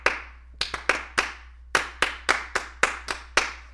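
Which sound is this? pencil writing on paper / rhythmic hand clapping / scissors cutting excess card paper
rhythmic hand clapping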